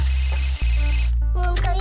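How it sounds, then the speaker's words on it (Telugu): A mobile phone rings with an incoming call, a loud electronic ringtone melody that breaks off briefly and then resumes with a changed tone pattern, with no talking. "మీ అత్తయ్య కాల్ చేస్తుందిరా. ఫోన్ లిఫ్ట్ చేయకు."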